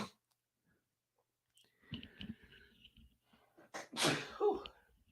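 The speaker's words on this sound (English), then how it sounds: "don't start that sneezing stuff" A single sneeze bursts out loud and close after a quiet stretch, preceded by faint breathing and small mouth sounds.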